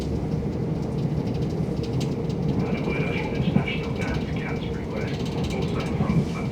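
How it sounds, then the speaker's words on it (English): A Southern train heading to Tonbridge rumbles along with a steady low roar and a rattle of wheels and carriage mechanisms, heard from on board, with faint voices underneath. "This train is the southern service to Tunbridge"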